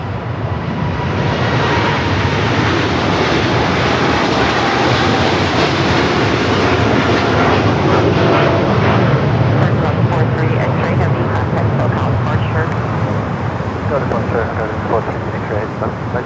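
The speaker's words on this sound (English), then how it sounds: "Cargo Lux 43 X-Ray taking off to Luxembourg on the 747-8 freighter" A Cargolux Boeing 747-8 freighter rolls for takeoff on a runway, a loud, continuous jet roar that holds throughout, with wind buffeting the microphone and people talking underneath.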